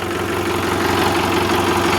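A tractor engine fitted with a freshly welded silencer idles steadily, a close, continuous low rumble with an even mechanical throb and no pauses or talk.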